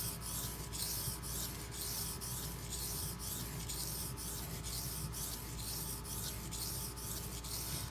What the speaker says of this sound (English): I'm going to go ahead and switch sides here just to get some even wear and some even grinding going on.